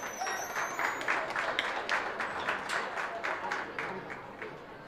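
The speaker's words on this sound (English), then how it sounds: "So let's give them a round of applause." An audience at a county goat show applauds with a steady burst of scattered clapping that rises and fades slightly, heard at moderate distance with a voice beneath it.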